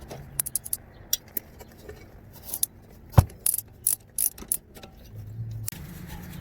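A ratchet wrench clicks in short bursts while loosening brake caliper bolts on a 2001 VW Cabrio, with sharp metallic ticks and a few louder clanks spaced irregularly and close by.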